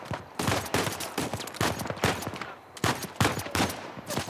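Rapid bursts of gunfire from the PS5 Uncharted 4: A Thief's End video game, loud and dense, with repeated sharp shots and automatic volleys running continuously through the stretch.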